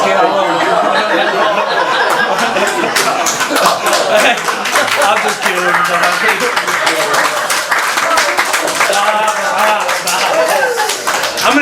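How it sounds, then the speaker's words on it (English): An audience at a council meeting claps for Sharon, a dense patter of applause mixed with chuckles and chatter while people talk throughout. "let's clap for Sharon and her designation"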